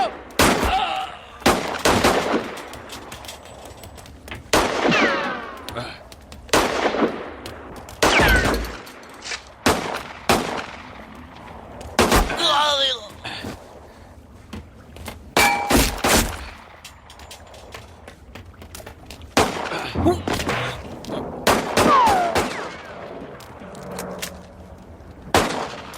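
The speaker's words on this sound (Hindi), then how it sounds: "प्लीज गोलीबारी बंद करो" Movie gunfire effects from a dubbed Hollywood action film, loud bursts of rapid shots and fusillades repeating in clusters throughout, with ringing tails and brief gaps between volleys.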